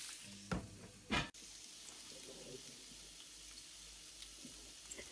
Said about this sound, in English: We'll close the lid and let them sear.